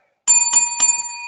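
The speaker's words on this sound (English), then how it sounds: "there's the bell, so we know what that means." A bright metallic bell rings three quick times to close a wrestling podcast, loud and clear with a ringing tail that fades out, no voices over it.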